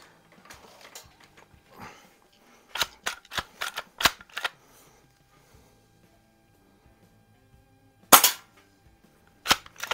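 A Crosman PSM45 BB pistol fired at a tin can, sharp snapping shots in an irregular series, some in quick pairs, with small clicks and handling noises between them and a clear metallic hit near the end.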